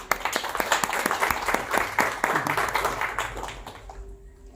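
An audience at a community cultural reading event in Puebla claps in a dense burst of applause that peaks early, then thins out and fades to quiet near the end.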